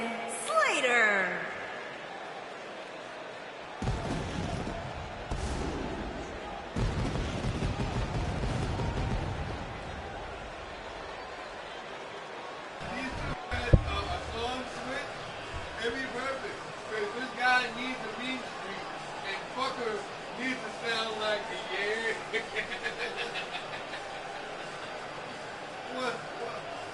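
A wrestling crowd at a K1W Infamy show roars and cheers as a wrestler enters the ring, a dense continuous din with rising and falling swells and a sharp bang partway through.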